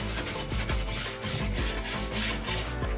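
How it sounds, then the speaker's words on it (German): Sandpaper wrapped around a silicone cartridge rubs curved wood edges for a dry toilet build, giving steady close rasping strokes in a repeated back-and-forth rhythm over a dense, noisy workshop background. "lege ein Schleifpapier drum und kann so sauber Rundungen verschleifen"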